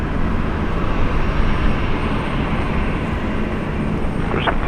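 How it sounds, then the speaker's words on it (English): An Alliance Airlines Fokker 100 jet lands at Brisbane Airport, producing a loud, steady broadband roar that stays unbroken across the whole stretch, with no voices over it. "Alliance Airlines, 6 knots, runway 1 on the left. Fokker 100 coming in from Canberra"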